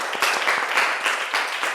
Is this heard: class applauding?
yes